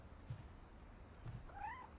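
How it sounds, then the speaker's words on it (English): In the video game What Remains of Edith Finch, a cat gives a faint, short rising-and-falling meow near the end, after two soft low thumps, against a quiet ambient background. "Also, I just heard a cat."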